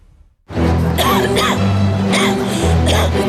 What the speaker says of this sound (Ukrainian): Всіх, мабуть, дратує мій кашель